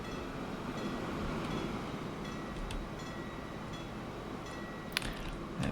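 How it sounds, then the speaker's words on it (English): A train rolls along in the Transport Fever 2 video game, a steady broad rumble with faint metallic clicks and a brief brighter clank near the end. "So I think that's the train's moving now."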